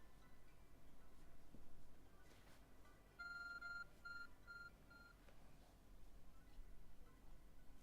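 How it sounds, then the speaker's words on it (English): An ARC phone in Pokémon Legends: Arceus beeps in a short series of clear electronic tones, three pulses with a brief gap between them, faint over quiet background game sound. "Your ARC phone is beeping."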